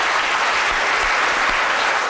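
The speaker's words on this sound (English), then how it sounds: "It's a big round of applause." A big round of applause from the audience at a Royal Institution Christmas Lecture, dense continuous clapping, loud and even from start to end.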